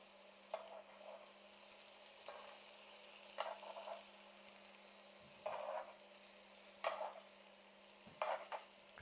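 Salisbury steak patties laid a couple at a time into a hot pan with onion, each one setting off a short burst of sizzling, with quiet gaps between the bursts.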